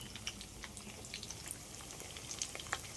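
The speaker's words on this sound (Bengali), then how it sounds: "এইভাবে সব চিকেনগুলোই আমি ভেজে নেব।" Chicken pieces for Chicken 65 frying in hot oil, giving a steady close crackle with scattered sharp pops throughout and no talking.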